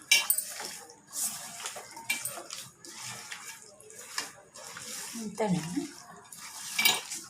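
A spoon mixes food ingredients with oil in a bowl, producing irregular wet squelches, scrapes and clinks in short bursts, close and fairly quiet, with a brief spoken word partway through.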